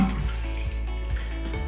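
Water pours steadily out of a toilet bowl tilted during a low-flange repair, a continuous splashing gush with faint rhythmic gurgles, close and alone with no talk.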